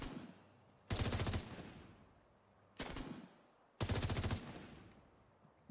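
Two short, loud bursts of automatic gunfire from The Division 2, fired at target balls in a PvE mission, separated by quieter game ambience with a small pop near the end.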